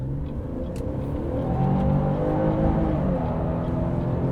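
A 2023 Chevrolet Traverse engine held in a brake torque, revving steadily with a loud, sustained drone that climbs slightly in pitch partway through, heard up close without talk.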